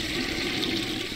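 A toilet flushing in the horror video game Death Flush, a loud continuous rushing whoosh of water heard close and alone.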